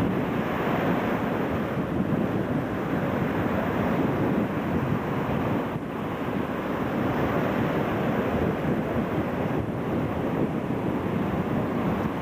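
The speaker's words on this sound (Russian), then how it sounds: "Это Черное море." Black Sea surf breaking steadily along the shore in Crimea, a constant loud wash of waves with wind rumbling against the microphone and no voices.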